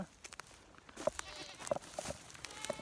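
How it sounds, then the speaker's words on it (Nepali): Several goats bleat in a farm enclosure, a handful of short calls spaced irregularly over a few seconds, moderately close over faint outdoor background noise with no talking. "बाख्रा देख्न सक्नुहुन्छ यता भित्रतिर बाख्रै बाख्रा"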